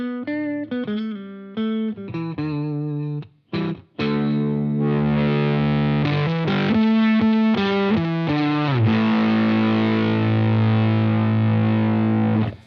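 An electric guitar runs through a Lytt Effects Dead Bolt overdrive pedal, playing loud, saturated distorted chords and sustained notes with a brief pause before a long, ringing held chord.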